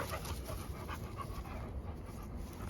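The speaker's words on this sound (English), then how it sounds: "See my dogs running and performing?" American Bully dogs pant heavily and steadily up close while running, a continuous rapid breathing with no talking.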